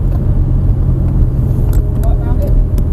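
Lamborghini engine rumbling steadily on a cone-marked circuit, a continuous loud low drone with a few brief higher whines and clicks on top, close and without pause.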